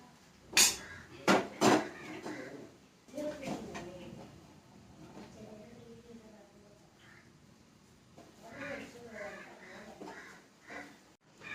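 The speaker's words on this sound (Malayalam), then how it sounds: "നമുക്ക് ഇത്തിരി തേങ്ങാക്കൊത്ത് അരിഞ്ഞെടുക്കാം" A knife chopping coconut pieces on a board in a home kitchen, a few sharp knocks at first, then scattered softer cuts and clatter, with a voice talking over much of it.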